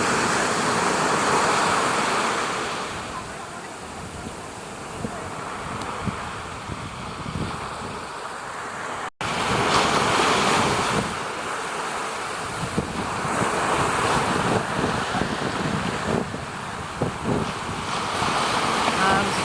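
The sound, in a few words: ocean waves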